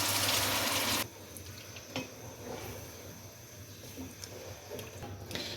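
A one-second burst of water pouring into a cooking pot of dum ka gosht, then quieter clattering and faint background noise with a few light knocks.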